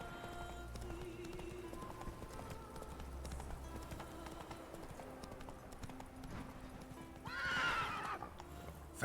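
Roach, the horse in The Witcher 3, clip-clops along in a steady gallop at low level under game ambience, then lets out a sharp neigh near the end.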